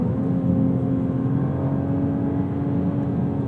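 A stock 2026 Toyota GR Supra Final Edition with a turbocharged inline-six holds a steady, close engine drone with a smooth rev blip on a rev-matched downshift, no talking.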